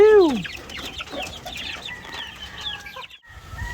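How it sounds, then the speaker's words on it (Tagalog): Game fowl hens on a farm clucking and chirping in a busy, close chorus, with one loud squawk at the start and overlapping calls after it. "Dito naman sa kabila, lahat ng nandito ay yan, mga game fowl"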